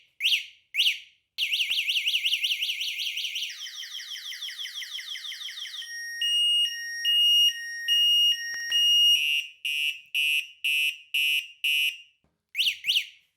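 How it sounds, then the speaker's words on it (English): A WAU X e-bike's anti-theft alarm sounds, opening with short warning beeps, then rapid rising sirens, then steady tones and repeated pulsing bursts that build in loudness, sharp and close. "there's an alarm that goes off, but a warning first, and a warning alarm, and then the alarm builds up and gets louder"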